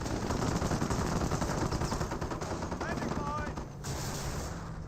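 Gunfire from a Staghound armored car in the Company of Heroes strategy game, rapid bursts of shots and battle noise layered densely throughout, with a few whining ricochet-like tones partway through.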